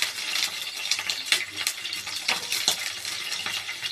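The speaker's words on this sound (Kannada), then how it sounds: "ಸ್ವಲ್ಪ ಹಸಿಮೆಣಸಿನ್ಕಾಯಿ ಬಾಡಿಸ್ಕೊಂಡು" Green chillies fry in a pan with a steady, bright sizzle and crackle, broken by occasional scraping stirs and light metal clinks from a utensil, close and continuous with no talking.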